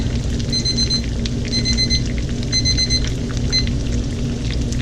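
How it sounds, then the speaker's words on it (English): A kitchen timer set for three minutes goes off during cooking of chicken parmesan and spaghetti, sounding as bursts of high, clear electronic beeps in repeating groups over a steady low hum. "The timer will be going off in a minute"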